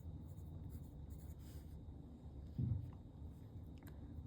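A pen tracing Pitman shorthand strokes on paper, soft close scratching in short strokes with one brief louder tap, very quiet and without speech.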